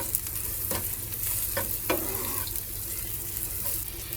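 Soaked flattened rice (chira) frying in a pan with raisins and sugar, giving a steady close sizzle broken by several scraping stirs of a spatula, with no talk.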